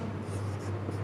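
Chalk or marker writing on a board during a lesson, a brief faint scratchy stroke under a steady background hum.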